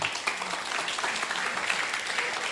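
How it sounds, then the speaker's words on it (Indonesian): A crowd applauding steadily, a dense wash of clapping that holds at an even level throughout with no pauses. "Tepuk tangan dulu tuh Om Fikri."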